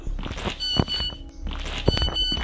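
A high-pitched electronic alarm beeps steadily in two bursts, with thumps and faint movement noises around it.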